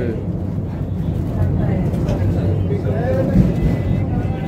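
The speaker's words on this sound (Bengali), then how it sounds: "এই যেমন আরেকটা ট্রেন যাচ্ছে, ডাউনের ট্রেনটি যাচ্ছে।" A down train passes on the Saptashrungi hill line near Nashik with a continuous low rumble and rolling noise that swells slightly midway, while a person talks over it.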